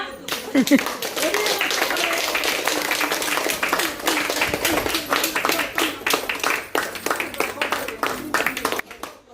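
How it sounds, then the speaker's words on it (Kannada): A group claps in lively applause at a birthday celebration, a dense run of hand claps lasting several seconds, with voices talking over it. "ಚಪ್ಪಾಳೆ ಹೊಡಿರಮ್ಮ."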